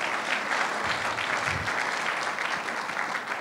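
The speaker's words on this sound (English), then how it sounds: "Give her a round of applause." An audience claps continuously at a youth program event, a dense and steady round of applause heard close and alone.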